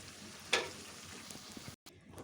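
Beef being stir-fried for kala bhuna in a pan, giving a low, steady sizzle with one sharper scrape or clatter early on, then a brief dropout before the frying resumes.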